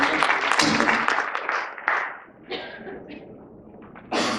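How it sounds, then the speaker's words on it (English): A conference audience in Riyadh claps, a dense burst of applause that thins into scattered claps, then briefly swells again near the end. "Round of applause for that."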